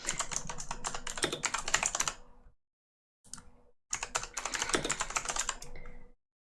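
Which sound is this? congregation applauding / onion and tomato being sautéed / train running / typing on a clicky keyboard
typing on a clicky keyboard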